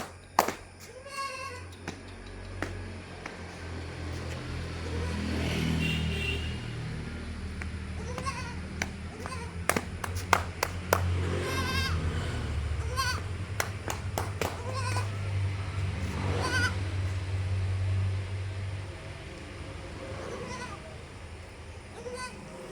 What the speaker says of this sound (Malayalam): പാല് കൊടുത്ത് വളർത്താൻ പറ്റിയ നല്ലൊരു മലബാരി പടക്കുട്ടി